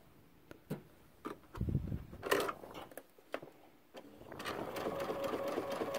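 A sewing machine stitches a Christmas stocking, with bursts of rapid mechanical whirring, ticking and handling clicks between runs, then a steady stitching run near the end, close by with no talking.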